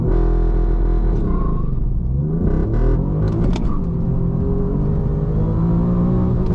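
A tuned Alfa Romeo Giulia with manual transmission accelerates hard, its loud engine note climbing in pitch, dropping briefly at a gear change around the middle, then climbing again, heard from inside the car without talk.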